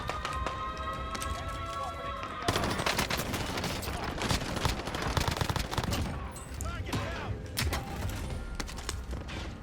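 Call of Duty Warzone gameplay is full of gunfire, with sharp single shots and rapid bursts cracking over a busy, dense battle mix. A voice talks over parts of it.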